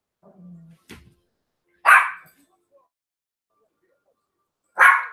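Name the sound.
dog barking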